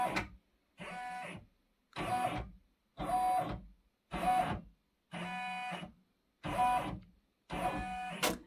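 A Brother embroidery machine traces a design on a Mighty Hoop, giving eight evenly spaced whirring motor runs of about a second each, separated by short silences, close and moderately loud.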